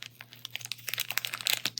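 Plastic wrapper of Duraflame Firestart kindling being pulled open, a close series of crinkles, tears and crunches over a low steady hum, with no talking.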